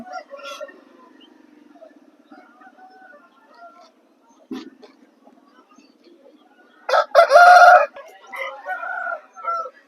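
A rooster at a Vijayawada rooster market lets out one loud, close crow late on, after a quiet stretch of faint clucks and low background noise.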